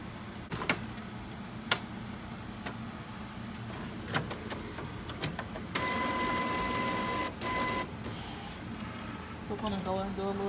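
An Epson 7710 printer works with its carriage moving back and forth, giving mechanical clicks and motor whirs with a sustained whine, while a person talks over it.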